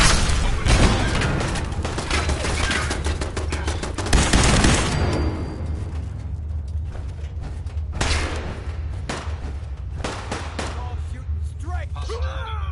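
A custom Hulk Buster companion robot in Fallout 4 fires a loud, sustained barrage of gunfire with heavy thumps, tapering into scattered shots while a voice speaks.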